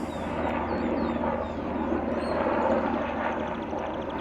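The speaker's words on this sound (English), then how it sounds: "Helicopter." A helicopter flies over Vista del Camino Park, giving a steady, loud, broadband whirring drone that holds level throughout with no talking.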